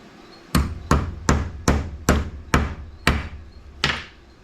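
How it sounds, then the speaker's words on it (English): Eight sharp hammer taps on a metal brake caliper clip of a 1992 Ducati 900SS ring out one after another, close and clear, evenly spaced with a slightly longer gap before the last. "just tap it with a hammer"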